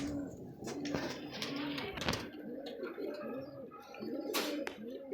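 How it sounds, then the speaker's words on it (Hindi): Pigeons coo in repeated soft, rolling phrases close to the microphone, with several birds overlapping in a steady rhythm and faint clicks and rustles around them. "अब चलते हैं इसके साथ साथ ही कबूतरों के पास"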